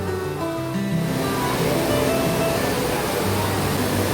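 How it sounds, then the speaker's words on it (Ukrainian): Artificial waterfall inside an aquarium, a steady broadband rush of falling water that swells after the first second and stays loud and continuous, with a faint tonal hum beneath and no talking. "Водопад."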